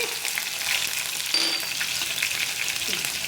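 Ingredients for eggplant curry, including dried red chili, frying in oil while being stirred with a ladle, a loud continuous sizzle with occasional scraping stirs close by.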